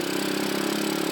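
A motorcycle engine idles steadily in street traffic during evening rush hour, a continuous close, moderately loud drone.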